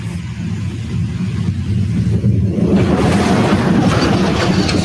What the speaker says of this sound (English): this logging truck on the way out